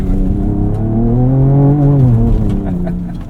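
A 2024 Ford Ranger Raptor accelerating hard off-road, its engine note climbing loudly through the revs and easing off near the end, heard from inside the cab.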